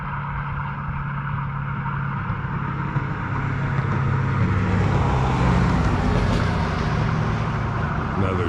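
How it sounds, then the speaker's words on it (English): A car passing on the road outside an abandoned hotel in Arizona, a steady broad roadway rumble that swells and peaks in the middle before easing off, with no talk over it. "I have a car going by right now"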